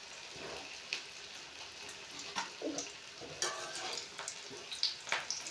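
Food crackles and sizzles steadily in hot oil, with scattered sharper pops and stirring noises throughout, close and fairly quiet.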